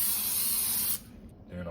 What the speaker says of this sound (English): Any sort of stick spray.